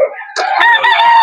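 A rooster crows once at a Bocaue pet market, a loud close call that rises and holds a long strained note, preceded by a softer clucking lead-in.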